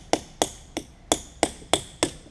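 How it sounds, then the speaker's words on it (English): Seven sharp metallic impacts ring out at a steady, fairly quick rhythm while bolts are worked free from the clutch housing of an IH 1066 tractor, each strike close and clear with a short decay. "what I'm going to do is take these bolts out of here for you"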